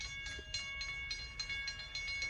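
A train passing nearby, a steady rumble with regular rhythmic clatter bursts and a faint high metallic ringing, continuous throughout with no talking.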